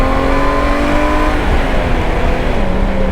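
A Honda Goldwing motorcycle engine at full throttle, loud and close, with a steady, strong drone whose pitch climbs as it accelerates. No speech.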